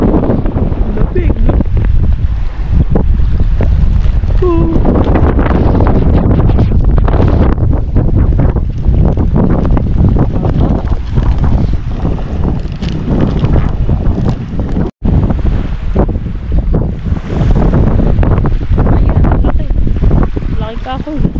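Strong wind buffets the microphone with loud, continuous roaring gusts at Los Vaqueros reservoir while trout fishing, voices talking intermittently over the rush of air and choppy water.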